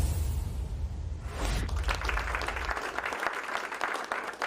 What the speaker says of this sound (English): Applause rings throughout the classroom